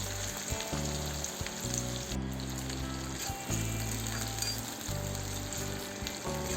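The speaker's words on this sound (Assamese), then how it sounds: "অকণমান ভাজি ল'ব লাগিব ৰঙচুৱা হোৱালৈকে।" Onions frying in hot oil in a wok for an Assamese drumstick curry, a continuous close sizzle with occasional stirring, loud and steady throughout with no talk.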